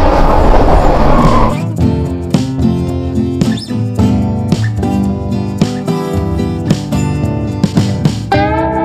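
Inside a moving local train, carriage rumble and rhythmic rail clatter run steadily and loudly, with a brief burst of hissing noise at the start and repeated clicking jolts.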